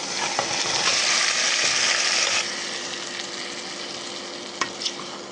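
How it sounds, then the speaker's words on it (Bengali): Marinated chicken hits hot oil with fried onion in a wok. A loud, bright sizzle settles into a softer frying hiss after a couple of seconds, and a few utensil clicks come near the end. "এখন ম্যারিনেট করে রাখা মাংসটা দিয়ে দিচ্ছি।"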